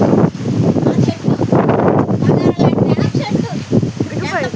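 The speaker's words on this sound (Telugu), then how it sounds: "గాలి విపరీతంగా వీస్తుంది" Heavy cyclone wind gusts through a village, a loud continuous rush and buffet on the microphone while a person talks steadily over it.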